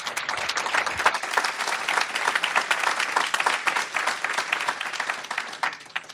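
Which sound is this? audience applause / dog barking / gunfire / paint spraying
audience applause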